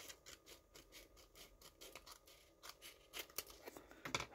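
Scissors cut a paper bookmark in a run of quick, crisp snips, close and quiet, growing a little louder and faster toward the end with no speech.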